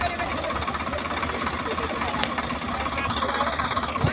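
Two tractors idle and rumble together in a steady, continuous low drone at close range, with faint voices talking over the engine noise.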